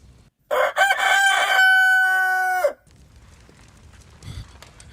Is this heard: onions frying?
no